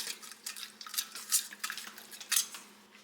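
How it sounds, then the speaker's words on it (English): A whisk clatters briskly against a pot on the stove, mixing bouillon into water for grits, a run of quick, close metallic taps and scrapes in an uneven rhythm. "Putting in a teaspoon of my bouillon. Whisk it in."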